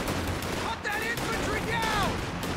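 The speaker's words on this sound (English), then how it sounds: "There's so many rifles being shot at these guys" Many rifles fire in an early-game Allies versus Axis battle in Company of Heroes 2, a continuous dense crackle of gunfire with whistling tones layered over a steady, busy battlefield din.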